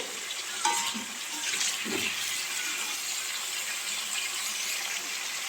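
Chicken pieces frying in a pan for chicken kosha, giving a steady, bright hiss with occasional scraping clicks of stirring, moderately close and fairly quiet.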